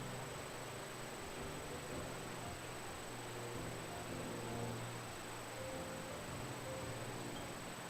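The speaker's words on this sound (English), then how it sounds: "The sound of static playing to my ears." Steady hiss of static from the game Doki Doki Literature Club runs unbroken and fairly faint, with a low hum and a thin high whine beneath it.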